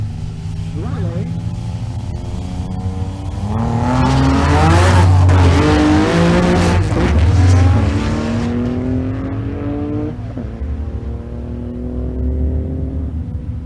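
A V6 Honda Del Sol drag racing in the right lane at a strip, engine revving hard and swelling as cars launch and pass loudly nearby, tires squealing, with a commentator's voice running over the noise.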